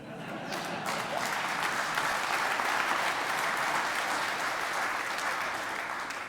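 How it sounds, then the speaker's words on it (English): A large audience at the 2019 Mississippi State of the State address bursts into sustained, dense applause that stays loud and steady for several seconds before easing slightly at the end. "You can applaud for that."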